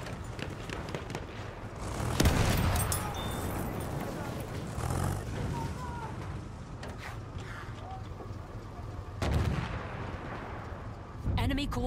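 An artillery barrage rumbles through a Battlefield 1 video game battle, with deep booming impacts and gunfire around two, five and nine seconds over constant battlefield noise, while game voice lines are heard.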